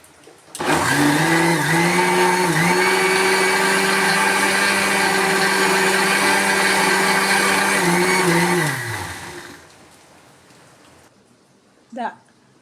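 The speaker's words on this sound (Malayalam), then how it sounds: "നമുക്ക് ഈ മാവ് ഇതിലേക്ക് ഒഴിച്ചിട്ട് ഒന്ന് കറക്കിയെടുക്കാം" A kitchen mixer grinder whirs loud and steady for about eight seconds while blending a thick rice flour and coconut batter for kinnathappam, its motor pitch dipping briefly under load before spinning down, followed by a short clatter.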